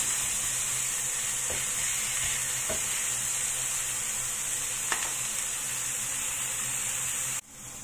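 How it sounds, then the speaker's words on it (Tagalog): Onions and garlic fry in a pan for a Taiwanese-style chicken curry, giving a steady close hiss with a few soft stirring scrapes, then a sudden drop in level near the end. "I-fry muna natin yan hanggang lumabas yung aroma ng onions at saka garlic"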